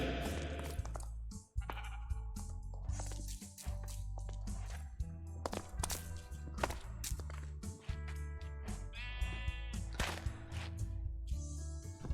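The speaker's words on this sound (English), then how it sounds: "we must recapture the sheep." Sheep bleating in the video game Minecraft, several short bleats mixed into busy game sounds with footsteps and a constant music bed.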